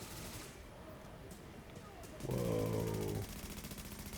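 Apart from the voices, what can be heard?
sentry gun firing in the video game The Division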